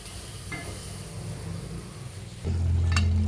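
Angamaly-style fish pickle fries in a pan, giving a steady, close hiss of sizzling oil. A low hum joins near the end.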